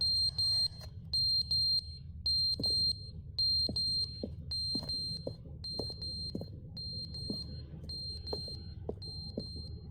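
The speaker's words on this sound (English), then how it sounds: "Why is that beeping like that now?" In The Stanley Parable Ultra Deluxe, a high electronic beep repeats steadily for about ten seconds, with sharp clicks and a low hum underneath and no talking.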